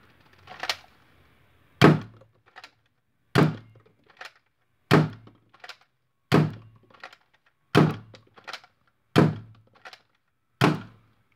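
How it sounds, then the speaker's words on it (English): A 3D printed seven-shot Hammershot fires a run of eight sharp, hollow thunks at a steady pace about one and a half seconds apart. Each shot is close and punchy with a quick decay, and no voices are heard. "And we're going to give it a few test shots."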